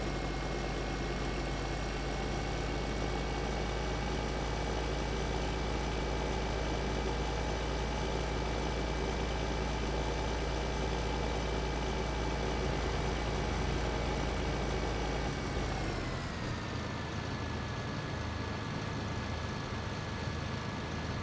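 A tractor engine in Farming Simulator 2013 drones at a steady, loud pitch, then drops lower about three-quarters of the way through, with no talk over it.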